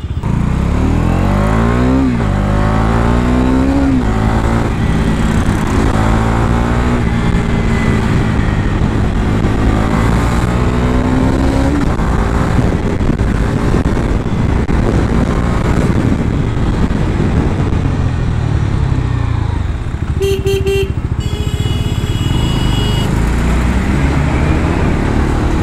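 A Bajaj Dominar 250 motorcycle revs and idles up close, its exhaust rising and falling through repeated throttle blips with a deep, bassy tone, loud and steady throughout, with a brief electronic beep near the end.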